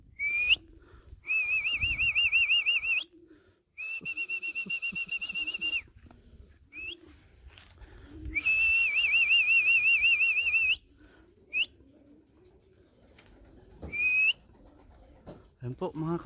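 Homing racing pigeons return from a 2020 old-bird race while loud, warbling whistles rise in several long bursts of two to three seconds, separated by short gaps, over faint low background murmur.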